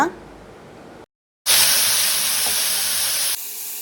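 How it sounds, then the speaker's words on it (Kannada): Sambar hits a hot tempering of red chilli and curry leaves with a loud, close burst of hissing sizzle that lasts about two seconds after a brief silence, then cuts down to quieter noise. "ರೆಡ್ ಚಿಲ್ಲಿ ಮತ್ತು ಕರಿ ಲೀವ್ಸನ್ನು ಹಾಕಿ ಕೊಡ್ತಾ ಇದ್ದೀನಿ ಇನ್ನು ನಾವು ಇದಕ್ಕೆ ಪ್ರಿಪೇರ್ ಮಾಡಿಟ್ಟಂತಹ ಸಾಂಬಾರನ್ನ ಹಾಕಿ ಕೊಡೋಣ"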